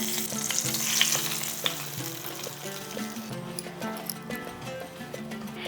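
Hot tempering of green chilli, curry leaves and asafoetida poured over mixed vegetables with yogurt, a loud close sizzle and crackling hiss that settles into steady bubbling, with faint clinks of utensils.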